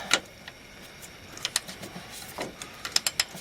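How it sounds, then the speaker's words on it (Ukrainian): A ratchet loosening bolts on the rear swingarm of a Honda CB 500 motorcycle gives quiet, sharp clicking bursts, a few isolated clicks, then quick runs of ticks near the end, with no talk. "Зараз я беру тріщотку, зриваємо тим, а тим відкручуємо."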